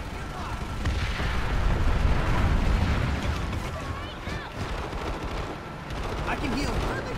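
Dense gunfire in the PlanetSide 2 video game, a rapid continuous stream of shots mixed with heavy battle noise and occasional bursts, loud and sustained, with some voices underneath.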